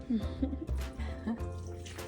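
Red wine topped up with white wine is poured into a pot for a chuck pot roast, giving a short, faint liquid splash and gurgle for about two seconds.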